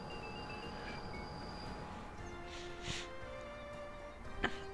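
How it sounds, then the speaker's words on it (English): Freight train loading in Workers and Resources: Soviet Republic, a quiet low rumble of railcars with faint metallic tones, a soft clank near the end. "Our train is loading."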